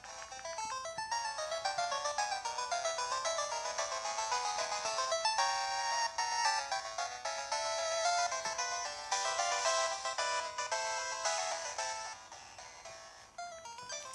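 Chiptune-style music from the video game Shovel Knight: Specter of Torment, with bright, fast melodic lines and a driving beat, played fairly quietly and alone without talking.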